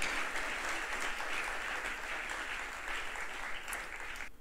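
Congregation applauding during a sermon, a full, steady burst of clapping that holds for a few seconds and cuts off abruptly at the end.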